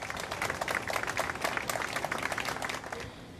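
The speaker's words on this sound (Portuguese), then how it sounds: "Os familiares foram recebidos com muitos aplausos." A crowd in a town square applauds as family members arrive, producing a dense, fairly distant wash of clapping that fades out near the end.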